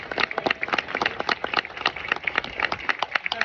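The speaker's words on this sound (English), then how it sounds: "I want to give him a round of applause." Listeners at a scholarship award ceremony give a round of applause, a brisk run of distinct, sharp handclaps from a modest group, continuous and fairly close.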